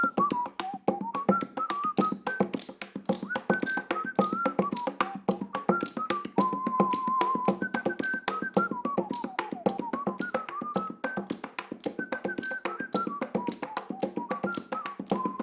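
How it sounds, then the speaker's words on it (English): One performer whistles an improvised tune, a bright and clear melody, over a busy rhythm of tapping and castanet clicks. It plays like a lively one-man band, close and alone with no talk. "a little made-up rendition of whistling and tapping and using the castanet"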